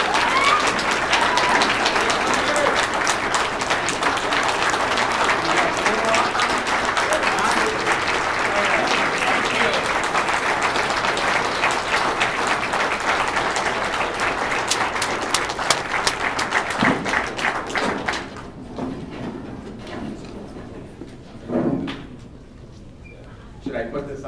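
An audience applauds to welcome award recipient Tom Rukavina, the 2009 MSCSA State Representative of the Year, with sustained loud clapping for about eighteen seconds that then thins out and fades, followed by some faint movement and room noise.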